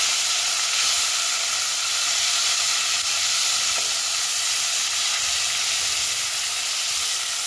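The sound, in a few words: tomato and chili paste frying in a pan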